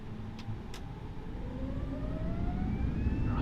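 Simulated A320neo jet engines in Flight Simulator 2020 spooling up to full throttle, a rising whine over a deep steady roar that grows louder, with a couple of faint clicks early on.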